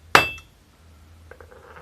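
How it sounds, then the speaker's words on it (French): A hammer strikes a metal bar resting half on and half off an anvil at a forge, one sharp ringing clang that fades, followed by faint clinks and rustling. "on vient frapper avec le marteau à moitié sur l'enclume, à moitié en dehors"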